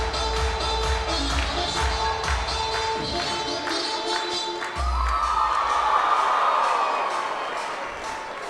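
A Tar Heel home crowd at a college gymnastics meet, North Carolina against Temple, keeps up a constant cheering roar with scattered shouts, then surges louder midway with whoops.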